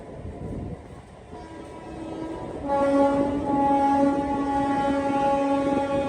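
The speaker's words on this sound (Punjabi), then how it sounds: "ਇਹ ਇਥੋਂ ਦੀਆਂ ਹੈਗੀਆਂ ਲੋਕਲ ਟ੍ਰੇਨਾਂ" A local train at Panagarh railway station rumbles nearby, then sounds a loud, sustained horn that rings over the rolling noise.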